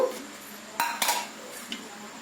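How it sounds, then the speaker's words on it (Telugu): A metal pan set on a kitchen stove gives a few sharp clanks and knocks, two close together near the middle and a lighter one after, with quiet room tone between them. "స్టవ్ వెలిగించుకొని ఒక బాండి పెట్టుకున్నాను"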